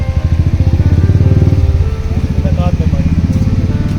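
A black Yamaha MT15 motorcycle engine runs close by with a loud, pulsing single-cylinder thrum that holds steady, then dips briefly mid-way and picks back up, while people talk over it.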